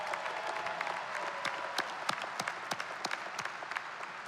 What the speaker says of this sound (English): maybe just clap if you're happy to be in person.